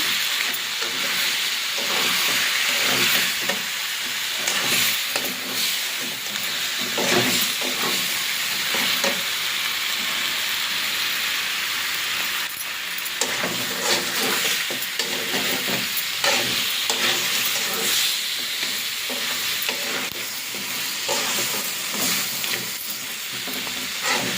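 Crab curry with turmeric frying in a pan, a loud continuous sizzle and hiss with repeated scraping stirring strokes throughout, and no voices.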